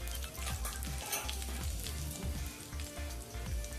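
Cashew pieces and a pinch of asafoetida crackle and sizzle steadily in hot oil for South Indian temple-style pongal tempering, close and loud, with bursts of spitting and a low steady hiss throughout and no voices.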